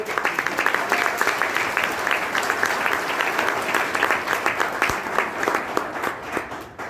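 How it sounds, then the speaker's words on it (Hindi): An audience claps in a dense, continuous burst at a wellness products seminar, with individual sharp claps standing out, steady and fairly loud before tapering near the end. "ताली बजानी है तो ढंग से बजा लो तुम लोग।"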